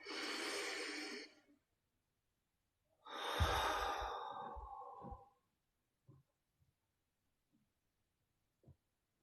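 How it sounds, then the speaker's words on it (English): A slow, deep breath during a guided anxiety session: a long audible inhale, a pause, then a longer whooshing exhale, close and quiet, followed by a few faint soft clicks. "go ahead and take a really big deep breath"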